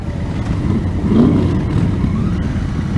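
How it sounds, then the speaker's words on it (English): A motorcycle idles at a stop while its rider blips the throttle, a steady low engine rumble that swells briefly near the middle, mixed with gusty wind buffeting the microphone. "Just sitting there revving your freaking engine."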